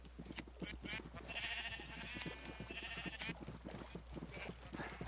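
Sheep bleating in the Minecraft video game while a player shears them for wool, with repeated short bleats and game sounds over a busy background, accompanied by a voice speaking.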